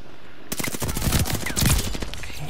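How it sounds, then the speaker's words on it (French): Thompson submachine gun fired in a video game, a rapid loud burst of automatic fire starting abruptly after a brief pause and rattling on continuously to the end. "La cadence de tir, la puissance des armes de ce jeu... On n'est pas habitué"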